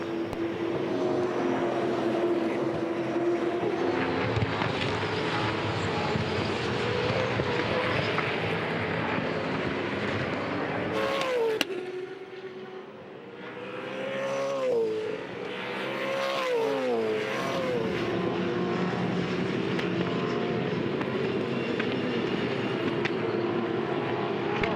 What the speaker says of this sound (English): Live V8 Supercar racing on 7 Sport